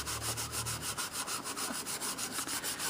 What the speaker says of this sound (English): I also have a piece of Scotch-Brite, which I'm going to rub a little bit on.